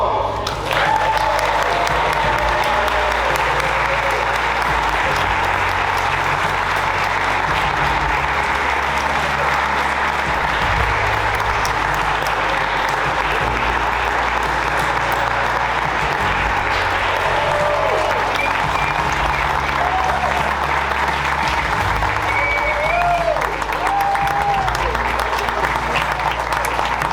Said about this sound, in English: you're going to give them a round of applause